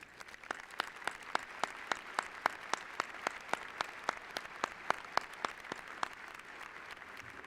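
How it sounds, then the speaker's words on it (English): A commencement crowd applauds the faculty with steady, fairly distant clapping and a few sharper individual claps standing out, sustained throughout with no talking. "accept the applause of these students for your guidance, wisdom, and support"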